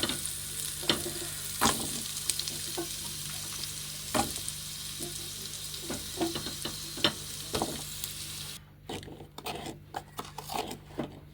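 Onion, ginger, garlic and carrot sizzle steadily in a pan with cumin for a healthy carrot soup, with scattered stirring clicks and scrapes over the hiss until the frying fades near the end.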